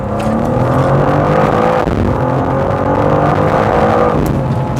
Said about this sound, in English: when you switch it into the sportier mode, drop a couple of gears